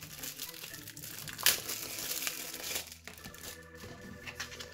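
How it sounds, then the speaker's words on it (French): Crinkling plastic packaging as a parcel is unwrapped, a steady, close crackle with one sharp loud rustle partway through, continuing without speech. "on va déballer et découvrir ça un petit peu mieux sans la brillance du plastique et tout"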